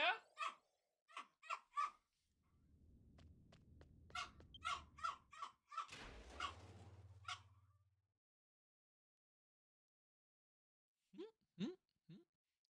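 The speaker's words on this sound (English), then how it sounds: "What are you barking at?" A dog barks in the video game Dragon Quest X, a few short yaps after someone speaks, with a low growl or rumble beneath, then quiet before a few more clipped sounds.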